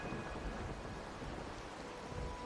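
Rain and rolling thunder from the game Wuthering Waves, a steady hiss of rainfall over a deep, sustained low rumble, continuous and without voices.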